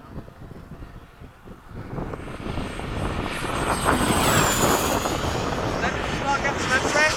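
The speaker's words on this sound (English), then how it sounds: "I'm gonna do a fast pass down the runway." A radio-controlled Freewing 80mm MiG-21 electric ducted-fan jet makes a fast pass down a runway in breezy conditions, its whine swelling from faint to loud and holding with a whooshing rush, while voices talk nearby.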